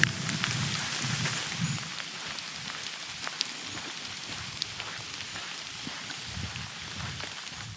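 Steady rain patters on a forest canopy on Fraser Island, a soft continuous hiss with scattered drops, fairly faint and with no voices.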